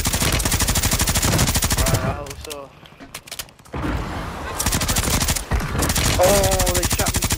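Sustained automatic gunfire in the video game Warzone, dense rapid bursts that break off into a brief lull mid-way before the shooting resumes, loud and close, with a player's voice talking underneath.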